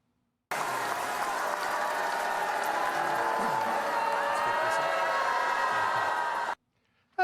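A large crowd of graduates at an NYU commencement booing a bestselling author, a dense sustained roar of jeers lasting about six seconds before it cuts off abruptly.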